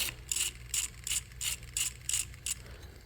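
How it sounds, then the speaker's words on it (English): An abrasive wheel grinding a jump ring carved in a metal impression die, seven short evenly spaced rasping passes, close and fairly quiet, with no talk. "So I'm just gonna hit that ring a couple of times with that abrasive wheel."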